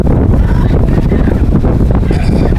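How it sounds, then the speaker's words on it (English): Swirling wind buffets the microphone on an open-water rowing course during a women's collegiate race, a loud steady rumble filling the whole short stretch. "This wind is very much swirling. It is not blowing in any consistent direction."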